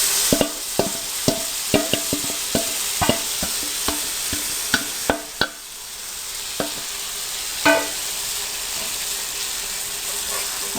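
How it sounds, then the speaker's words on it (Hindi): Chicken frying on a tawa with softened chopped tomatoes for a Punjabi-style spicy tawa chicken, giving a steady sizzle throughout with a run of sharp scraping and stirring clacks from a spatula, close and fairly loud, no talk. "टमाटर कतरे नरम हो गए हैं तो अब हमने इसमें चिकन डाल देना है"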